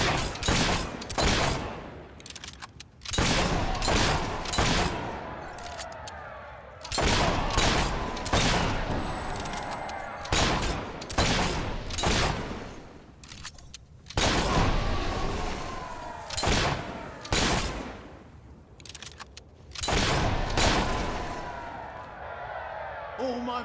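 Gunfire in Fable III on hard difficulty: repeated loud volleys of shots in dense bursts with short pauses, continuing throughout at close range.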